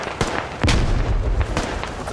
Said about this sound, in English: Grenades from Perry.